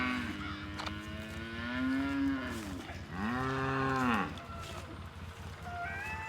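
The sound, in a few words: cow mooing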